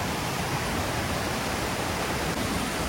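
Waterfall in a Swiss village, heard as a dense, unbroken roar of falling water, loud and near, with no talking.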